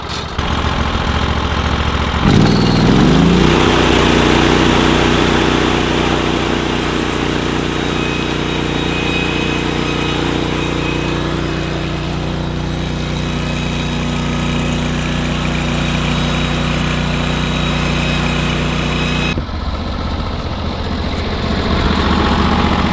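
An engine-driven saw mill idles loudly and steadily near a log, a low rumbling engine drone with a revving surge early on, then a sudden drop to quieter running near the end.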